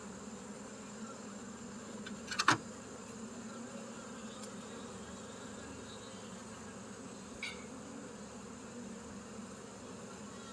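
Honey bees buzz steadily and close during a farm hive inspection, a dense continuous drone with a brief louder knock and rustle near the start.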